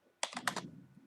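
A short burst of keystrokes on a computer keyboard, a few quick close clicks in about half a second, crisp and alone in a quiet room.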